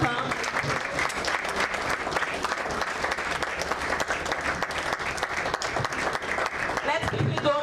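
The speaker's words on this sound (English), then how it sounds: "Can we please put our hands together for him?" A crowd at a meet-and-greet event claps loudly and continuously to welcome Lagos Governor Babajide Sanwo-Olu, a dense steady wash of applause with some voices mixed in.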